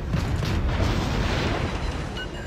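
Naval gunfire and explosions in the warship video game World of Warships, a dense rumbling wash of distant booms blending into continuous broadband noise, without speech.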